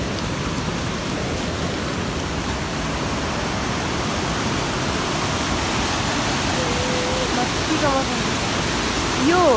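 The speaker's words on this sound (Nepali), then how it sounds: "यो सबै ठुलो झरना चाहिँ" A large waterfall roars steadily on a rainy-season mountain trek at Panchpokhari, Sindhupalchowk, as loud, unbroken broadband rushing water close by, with a voice briefly heard near the end.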